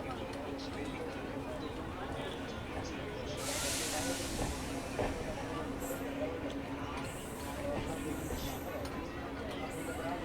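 The 12717 Ratnachal SF Express, running with LHB coaches, pulls out of Tuni station. From on board, a steady, even hiss and low rolling rumble carries on without a break, and a brief brighter rush comes partway through.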